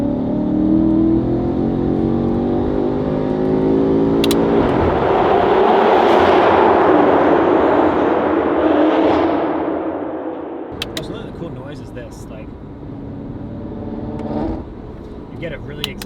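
A BMW F90 M5 with a titanium exhaust revs loudly inside a tunnel, its engine climbing to a booming, echoing roar that peaks midway, then drops off abruptly and fades as a voice speaks.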